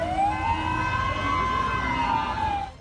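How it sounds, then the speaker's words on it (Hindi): A Taliban vehicle's siren on the streets of Kabul wails with a rising and falling tone, loud and continuous, cutting off abruptly at the end. "तालिबान जिस गाड़ी में आए उसका सायरन दूर से ही सुनाई दिया।"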